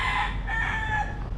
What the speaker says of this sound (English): That's the fucking rooster.